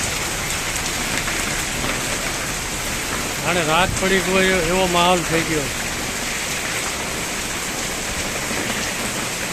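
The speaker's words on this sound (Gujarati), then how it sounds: "વીજળી પણ થઈ રહી છે અને સતત વરસાદ પડી રહ્યો છે." Heavy, continuous rain falls during a stormy evening with lightning, a loud, unbroken broadband hiss close by, and someone speaks briefly over the downpour partway through.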